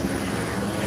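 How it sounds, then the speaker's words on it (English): A helicopter flies overhead at night above a police line and street protest, its rotor and engine producing a steady, loud, broadband drone with no pause. "Helicopter overhead,"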